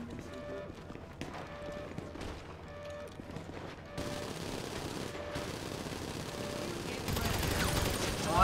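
Rapid automatic gunfire crackles through a GTA Online Doomsday Heist firefight, sustained bursts that grow denser and louder toward the end, layered over a steady game soundscape.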